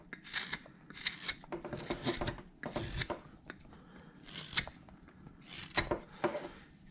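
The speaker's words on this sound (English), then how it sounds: "Work that area out right in there as much as I can with a knife." A knife shaving a wooden Santa carving from a bandsaw blank, with quiet close scraping and rasping strokes in short bursts, about a dozen cuts in an uneven rhythm, alone without talk.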